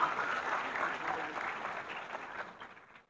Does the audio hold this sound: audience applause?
yes